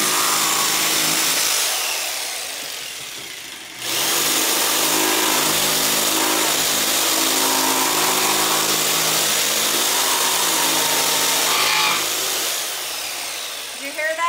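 A jigsaw cuts into a wooden door hanger with a loud, steady buzzing whine that briefly drops off mid-cut, then resumes at full strength and runs on continuously.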